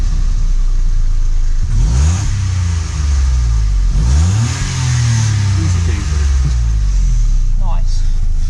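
Toyota Aygo small engine running with a couple of quick revs that rise and fall, loud and close, with a person talking nearby.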